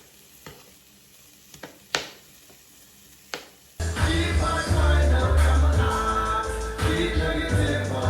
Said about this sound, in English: So you're just basically gonna saute the mushrooms. I'm gonna saute the fresh seasoning.